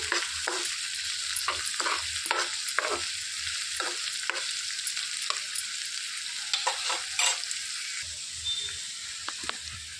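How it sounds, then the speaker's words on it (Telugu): Thinly sliced onions fry on a low flame for pacha kura curry, giving a steady, close sizzle and crackle with scattered pops and occasional stirring scrapes throughout, with no talking. "ఇందులో సన్నగా కట్ చేసి పెట్టుకున్న ఉల్లిపాయలు వేసేసుకోవాలి. సిమ్లో పెట్టుకొని వేయించుకోవాలండి."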